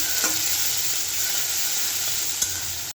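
Green peas and tomato fry lightly in a pan while being stirred. A close, even sizzle with soft scraping runs throughout and cuts off abruptly at the end.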